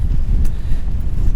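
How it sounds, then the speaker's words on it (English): Strong gusting wind on Blackpool seafront buffets the microphone in a loud, continuous low rumble with no break and no voices. "it is so windy."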